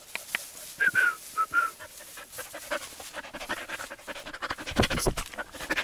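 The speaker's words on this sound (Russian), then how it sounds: "устала, собачка." Tired dog panting in rapid, breathy bursts while walking across open fields on a taiga hike, fairly close, with rustling footsteps and a few faint bird-like chirps, no voices.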